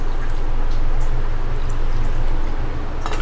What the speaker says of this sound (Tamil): இப்போ நம்ம ஒரு 1/2 கப் போல் தண்ணி விட்டு